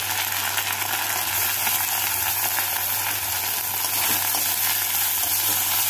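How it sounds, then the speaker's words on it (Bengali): Ginger and garlic paste frying with browned onions in a pan over a medium gas flame, giving a steady, dense sizzle with a low hum beneath, continuous and close for six seconds. "আদা বাটা রসুন বাটাটাকে দিয়ে ভালো করে ভেজে নেব।"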